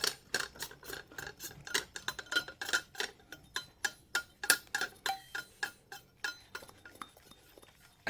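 An air bottle being screwed clockwise into an Air Venturi Avenge-X .22 air rifle gives a steady run of small metallic clicks and ticks, close and fairly quiet, with no talking.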